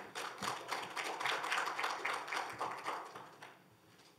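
An audience at a Korean basic-science education forum claps to welcome a university professor to the podium. The dense applause swells quickly, holds briefly, then thins out and fades near the end.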